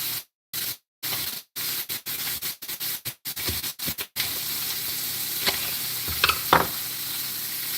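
Bok choy with garlic and seasonings fries in oil, a steady close sizzle broken by stirring scrapes, with several brief gaps early on before a continuous hiss and a few sharper crackles.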